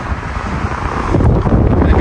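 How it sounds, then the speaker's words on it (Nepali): Strong wind blows outdoors beside a factory building in Korea, a loud, gusty roar that buffets the microphone and swells louder in the second half, with no one speaking. "हावा कस्तो चलिरहेको छ"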